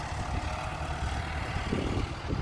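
A small tractor engine runs steadily close by on a rural railway bridge construction site, a continuous low rumble without pause throughout.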